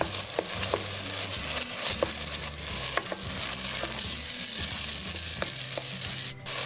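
Onions, grated tomato and tomato paste fry in butter for a meat and chickpea stew, a constant sizzle with repeated clinks and scrapes of stirring against the pot.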